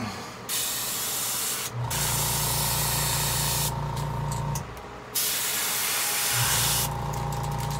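Spray paint goes onto a custom purple and yellow fishing lure in several long, loud bursts of close hiss, separated by short pauses.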